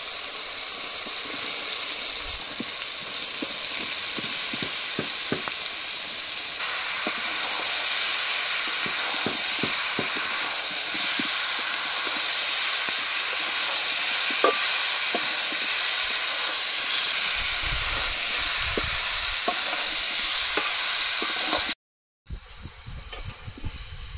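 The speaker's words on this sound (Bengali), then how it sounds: "এবার ভেজে রাখা আলু আর সিদ্ধ করে রাখা এঁচড় দিয়ে কষিয়ে নেব।" Fried potatoes and boiled jackfruit cook in oily spices in a pan, producing a loud, steady hissing sizzle with scattered scrapes and pops that cuts off abruptly near the end before a brief quieter return.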